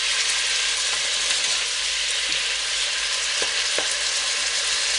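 Pork caramelizing in a hot pan gives a steady, close sizzle and frying crackle throughout, with a few faint clicks from stirring and no talk.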